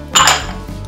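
Sugar, cornstarch, lemon juice and water for a fruit tart glaze being stirred together in a pan, giving a short burst of metallic scraping and clinking against the pan, close and fairly loud, then fading to a low kitchen hum.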